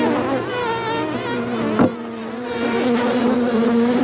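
A swarm of honeybees moved in a garden cart buzzes in a dense, continuous drone, loud and close, with individual bees whining past and a brief knock partway through.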